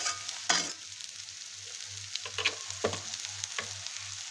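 Spices and mashed potato sauté in a pan for a veg sandwich filling, a low steady sizzle broken by several scattered scrapes and stirring knocks, close and fairly quiet.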